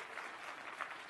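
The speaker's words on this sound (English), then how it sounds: "Give each other a round of applause for that" A talk audience applauds one another with a brief, steady wash of clapping that sounds somewhat distant and soft.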